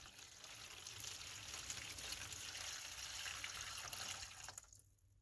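Water runs into a potted pineapple plant from below, a faint, steady trickle and splash that continues for several seconds and then stops abruptly, with no speech.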